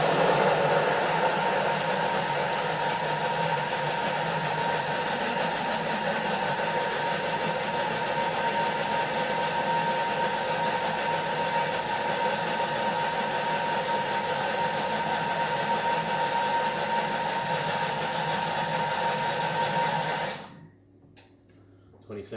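Kitchen blender blitzing Thai green curry ingredients at speed 6, a loud steady whine with a constant motor drone lasting about twenty seconds before stopping abruptly.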